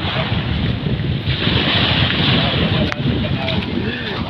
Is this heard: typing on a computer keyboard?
no